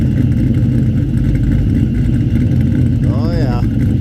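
A Pontiac Trans Am engine running on a dyno during tuning, a loud steady low rumble that holds constant, with a brief rising and falling whine-like tone near the end over the drone.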